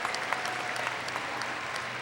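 Graduation audience applauding at a high school ceremony, a dense steady patter of many hands clapping at a moderate distance, with no voices on top.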